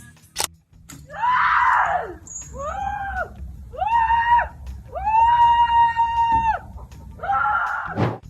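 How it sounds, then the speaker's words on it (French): A woman screams repeatedly in an alpine setting, with a series of long, loud, tonal wails separated by short breaks, sharp and close, with a sharp knock at the start and end. "Cette dame crie probablement à cause de la beauté de ce paysage alpin"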